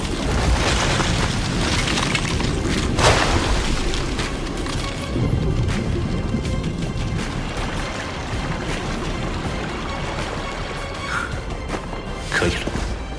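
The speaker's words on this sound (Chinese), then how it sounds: "冰爆术有瞬时和蓄力两种引爆方式，瞬时引爆的优势是猝不及防，而蓄力能够将爆炸的威力提升到最大" Ice explosion spell detonating in an animated fantasy series, heard as a sustained roaring blast with booming crashes and sharp bursts throughout, loud and continuous with little speech.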